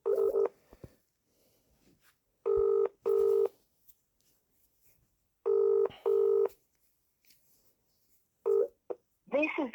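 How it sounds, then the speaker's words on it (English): A mobile phone ringback tone sounds in repeated double pulses with pauses between them, with brief talk at the start and a Vodafone voicemail greeting cutting in at the end. "Oh, it's ringing."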